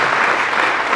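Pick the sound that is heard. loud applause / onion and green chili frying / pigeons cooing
loud applause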